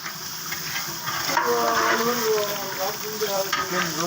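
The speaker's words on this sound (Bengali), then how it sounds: "চিকেন ফ্রাই এটা" Chicken frying in a pan during a chicken roast cook, a steady sizzle with stirring throughout, close and moderately loud.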